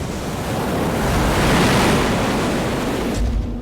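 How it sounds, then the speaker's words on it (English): Heavy ocean swell crashes over a reef onto a stricken boat: a loud, continuous roar of breaking surf with wind, building through the middle and easing near the end, with no voices. "Yet another ocean swell crashes over the reef and unleashes its full fury on the stricken boat."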